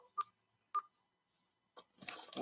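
Phone line tones as a call drops: two short electronic beeps, then a brief burst of noise, followed by a voice starting to talk, all fairly faint.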